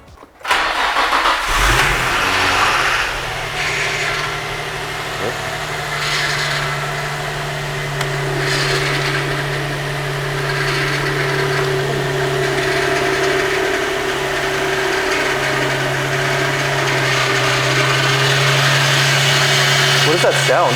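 Infiniti G35 engine starting up after a chassis swap, then idling steadily with a loud, continuous whine from the power steering layered over the low engine hum, with people talking over it.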